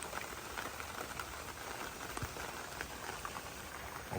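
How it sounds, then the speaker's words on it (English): Steady rain patters softly, a dense even hiss of drops with occasional louder taps, with no voices. "So it's raining."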